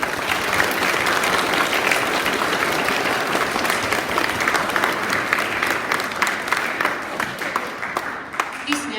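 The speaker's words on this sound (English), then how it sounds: "Can we have one more round of applause for our very worthy award recipients from today?" An audience at a Year 6 graduation awards ceremony gives award recipients a sustained round of loud, dense applause that carries on for about nine seconds and thins slightly toward the end.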